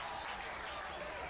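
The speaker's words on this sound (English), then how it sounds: "the fans applaud their team up by 2" Fans applaud at a men's lacrosse NCAA Tournament game between Tampa and Lewis, a steady wash of crowd clapping filling the stands with no break.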